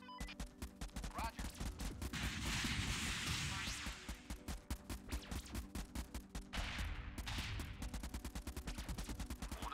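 Rapid bursts of gunfire in the military combat game Convoy, sharp repeated cracks in long dense volleys with brief pauses, loud and close, with occasional voices under the shooting.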